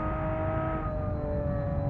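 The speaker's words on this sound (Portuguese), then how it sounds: "o barulho é muito bom, é muito agradável desse carro" A modded Lamborghini Aventador engine in the BeamNG.Drive driving game holds a steady, loud, droning tone, with no voices over it.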